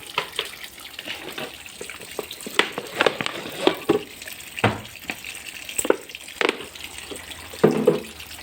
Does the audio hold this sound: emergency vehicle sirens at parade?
no